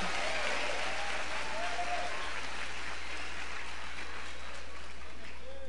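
A church congregation claps for the Lord during a sermon, producing a continuous, even wash of many hands that sustains for several seconds at moderate distance.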